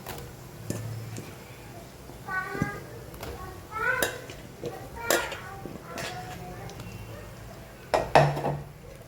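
Potatoes being stirred in a cooking pot in a home kitchen. A spoon gives a few scattered light clinks and scrapes against the metal, with quiet voices nearby.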